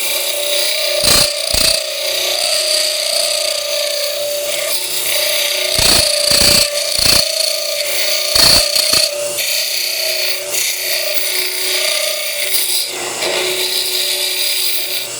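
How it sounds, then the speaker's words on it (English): A straight rotary tool enlarges an opening with a steady, high-pitched whine, broken by several brief sharp bursts where the bit bites and grinds against the material. "I'm going to take my straight tool. I need to enlarge that opening a little bit."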